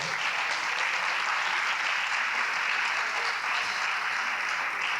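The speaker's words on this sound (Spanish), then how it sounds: "Un aplauso para él, por favor." A roomful of people applauds a panelist being called up at a round-table event on conscious eating, dense, even clapping holding steady for the full stretch with no voices.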